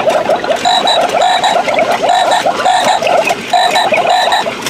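A Halloween frog skeleton decoration in a home improvement store croaks loudly and steadily, a continuous run of rhythmic electronic frog calls with repeated bursts and no talking.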